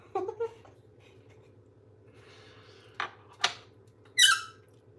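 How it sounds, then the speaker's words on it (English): A coffee grinder gives a few short, sharp squeaks and a brief high squeal, spaced out over a low steady hum in a quiet room. "My grinder is squeaking."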